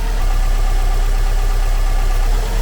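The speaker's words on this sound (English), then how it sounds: "we're close to an operating idle speed range" A 2004 Subaru Impreza WRX STi engine idles near operating idle speed in a garage, giving a steady, loud, even rumble with a faint pulsing throb and no voices.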